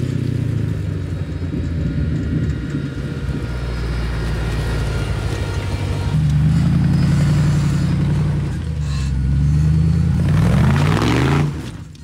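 A Jeep Wrangler fitted with a swapped Corvette LS engine rumbles loudly nearby, its deep V8 idle building into heavy revs and acceleration surges that climb in pitch toward the end, with no talk.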